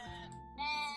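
One sheep in Equilinox gives a short, nasal bleat, close and clear, that breaks off briefly and then swells into a brighter, sustained cry.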